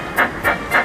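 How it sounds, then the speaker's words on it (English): Three evenly spaced puffs of steam hiss from a chugging train engine running along a track, a close, rhythmic chuff sound effect in a children's audio story. "The two engines clattered happily along the track."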